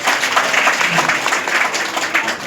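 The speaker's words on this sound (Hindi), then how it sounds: "तो उनके लिए भी एक जोरदार ताली।" Audience at a large company meeting in Doha applauds, a dense steady wash of clapping from a crowd, fairly loud and continuous.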